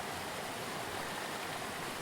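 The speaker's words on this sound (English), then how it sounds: "this is what the river looks like, with slabs of ice and snow going by at a very slow" A river carries slabs of ice and snow slowly past, giving a faint, steady wash of flowing water with no distinct splashes.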